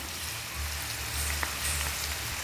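Chopped onions and curry leaves sizzle steadily in hot oil for a chicken curry, a close, constant crackling fry with a faint stir or clink partway through.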